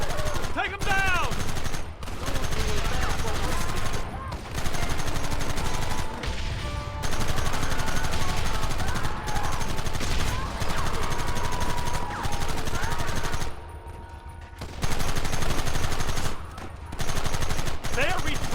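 Sustained, loud gunfire in a video game shootout, with rapid bursts and volleys continuing almost without break, pausing briefly a couple of times, while voices shout in the mix.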